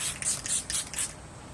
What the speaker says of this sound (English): I'm just going to put a bit of setting spray on.